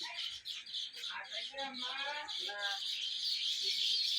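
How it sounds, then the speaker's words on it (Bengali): Birds chirping and calling in quick bursts over a constant high hiss of insects or background noise, with a voice briefly audible. "পাখি পাখির মারে ডাকতেছে।"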